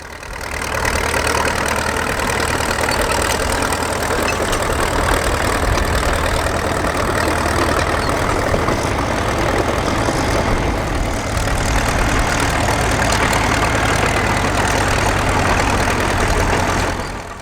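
Crawler tractors pulling a Crawfords reversible plough turn at the end of a field at a working event, their heavy engines chugging and idling in a steady low rumble that swells slightly midway, fairly close and without speech.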